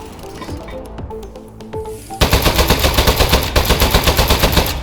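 Rapid gunfire from the Aperture Desk Job video game, a loud fast rhythmic burst of repeated shots that begins abruptly after a few scattered clicks and electronic blips.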